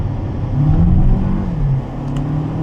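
VW Golf 6 with a 160 HP engine accelerating hard in sport mode, a steady near engine rumble rising and holding, then easing off toward the end, with no talk.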